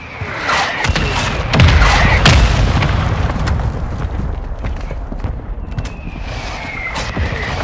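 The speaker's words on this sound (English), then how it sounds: "Mortar strike inbound now." Mortar shells from a called-in strike in Call of Duty Warzone 2 on the Al Mazrah map land in a run of loud, deep booming blasts, close and heavy at first, then thinner distant thuds and crackles.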